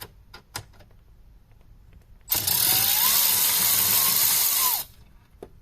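Power screwdriver backing a screw out of the dashboard brace of a VW Touareg, one steady whirring burst of about two and a half seconds, close and loud, between quiet clicks and handling noises.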